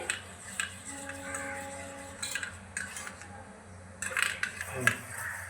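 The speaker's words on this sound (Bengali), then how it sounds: "দেখুন নাড়তে নাড়তে ক্রিমটা পুরো ঘন হয়ে গিয়েছে" A spoon clinks and scrapes against a pot while homemade rose cream is stirred as it thickens, faint intermittent metallic taps with a few brighter clatters, someone speaking softly in between.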